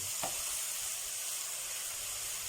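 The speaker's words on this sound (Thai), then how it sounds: "แล้วก็ผัดให้เข้ากัน" Tofu and mushrooms stir-frying in a hot pan for a Thai vegetable dish, a steady close sizzle with a brief scrape of stirring near the start, no talking.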